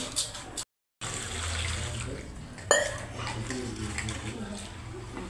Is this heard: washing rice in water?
yes